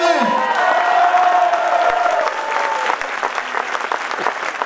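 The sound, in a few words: audience applause and cheering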